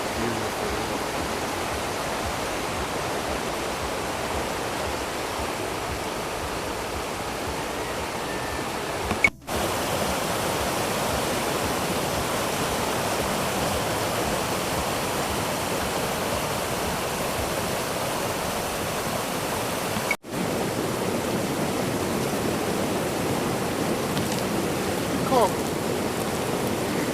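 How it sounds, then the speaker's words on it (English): A river in Uganda rushes steadily as a broad, continuous wash of flowing water, close and even throughout, interrupted by two brief cuts. "So we finally at the river. Yeah, man. Beautiful river."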